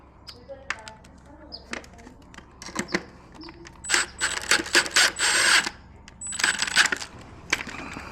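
A power drill whirs in several short bursts, pre-drilling through a door casing and driving screws into countersunk holes, with pauses between them filled by light clicks and handling noises.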